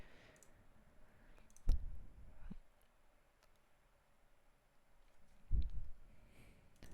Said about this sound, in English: So that was the first click, that's the second click